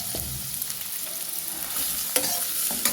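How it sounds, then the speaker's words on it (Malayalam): Shallots fry in hot coconut oil in a pan, making a steady, fairly quiet sizzle with a couple of sharper scrapes and clinks from stirring near the end. Nobody talks. "അപ്പം നമുക്ക് ചൂടായ പാനിലേക്ക് നമുക്ക് ചെറുള്ളി ഇട്ട് കൊടുക്കാം"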